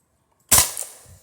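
A single sharp crack from a .22 caliber pellet gun firing a pointy-head pellet into ballistic gel, sudden and loud after near silence, then a quick decaying tail with a faint secondary tick.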